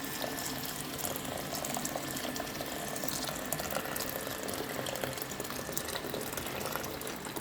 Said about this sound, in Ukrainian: Тепер заливаємо її кип'ятком.